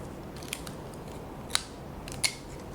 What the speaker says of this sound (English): Then I'm going to tape up the two ends.